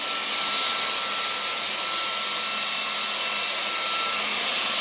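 A GTM SG18/700BL cordless paint spray gun sprays paint with a loud, steady whirring hiss that runs unbroken and alone.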